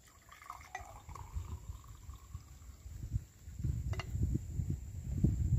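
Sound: pouring tea into a glass

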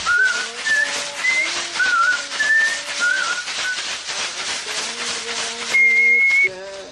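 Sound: Amazon shaman whistling during ayahuasca healing

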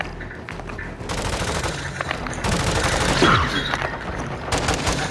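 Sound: full auto gunfire in video game Call of Duty Modern Warfare 2

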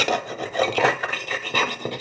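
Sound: kitchen knife being sharpened by rubbing

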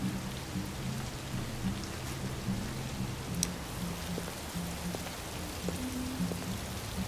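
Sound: rain in video game Detroit: Become Human

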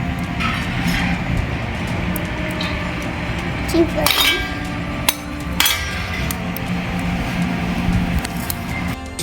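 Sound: mixing homemade incense stick ingredients

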